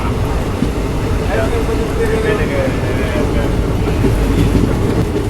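The Mangaluru Central Express rumbles steadily along the rails around a curve, loud and close, with a constant low roar and faint rhythmic clatter; a voice is briefly audible beneath it.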